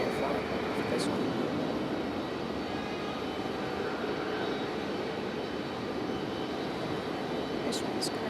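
An airliner bound for Detroit rumbles and roars at Raleigh Durham airport in a steady broadband wash of engine noise, constant loudness throughout, with a voice heard over it.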